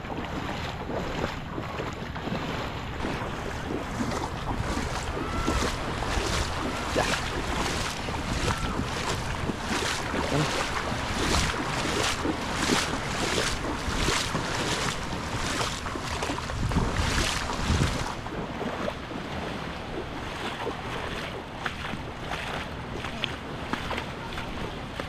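A small outrigger boat (bangka) moving on open water, with steady broadband wind buffeting and wave wash filling the whole span at an even, loud level; no clear speech.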